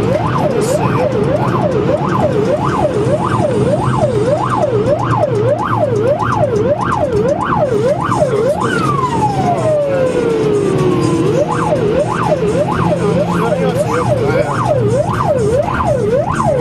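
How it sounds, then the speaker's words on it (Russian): Russian police car siren during a chase, a loud close wail cycling rapidly and evenly, briefly switching to a long downward sweep midway before the fast rise-and-fall resumes, with traffic rumble beneath. "Включи от сирены, включи сирену."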